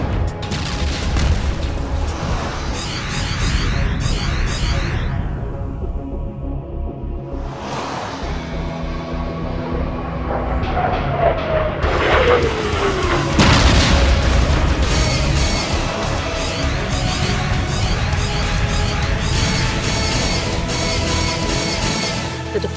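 Starship weapons firing in a space battle, with dense, loud booms and blasts that roll on continuously amid sweeping synthetic whooshes and a layered score, no talk.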